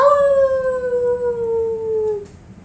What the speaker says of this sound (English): There was a howl,